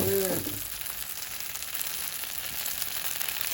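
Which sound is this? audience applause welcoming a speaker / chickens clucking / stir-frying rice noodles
stir-frying rice noodles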